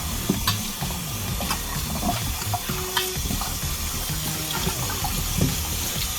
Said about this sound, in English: And it goes right into the hot water.